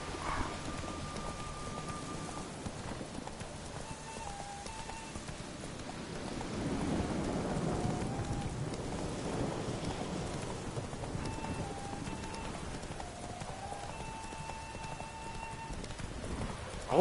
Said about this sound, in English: Always raining in this game.